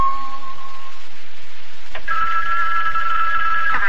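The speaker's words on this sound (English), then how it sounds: "Telephone's ringing." A telephone rings with a bright electric bell tone in an old radio show, the ringing loud and clear and starting partway through, with no talk over it.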